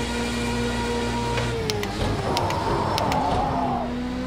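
A Formula A race car engine in Project Cars 2 drones steadily and loud throughout, with pitch shifts as the driver brakes and downshifts, and a few sharp clicks over the top.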